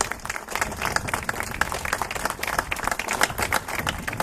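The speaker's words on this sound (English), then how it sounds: "Let's give a big round of applause." Audience applause at a tourism-industry event touting record visitor numbers: dense, steady clapping from a crowd that holds evenly for several seconds without pausing.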